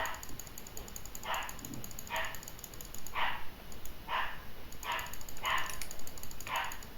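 A dog barks in a repeated series of about eight sharp barks at an even pace, moderately close, over a steady background hum during a mobile tapping game session.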